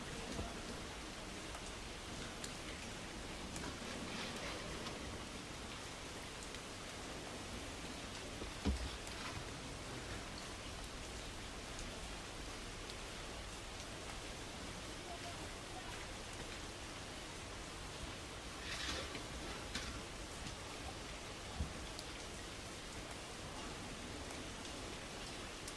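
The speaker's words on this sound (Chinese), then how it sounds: "听听外边这大雨下的" Heavy rain pours outside at night during a storm, heard from inside a car as a steady, faint hiss with occasional drops tapping nearby.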